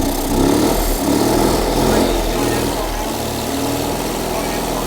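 A small Autobianchi car engine idles and runs steadily up close, a continuous mechanical drone with people talking over it throughout.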